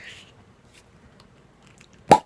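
A cork pops out of a bottle of Victory V-Twelve Belgian Quad with one sharp, close plop near the end, after a stretch of quiet fiddling and faint handling noise.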